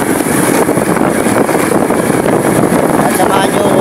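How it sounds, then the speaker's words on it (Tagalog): Heavy, continuous wind roar buffets the microphone while riding a motorcycle home, a dense broadband rush that stays loud and steady throughout with no clear engine note above it. "Nag-drive ako ng motor pauwi."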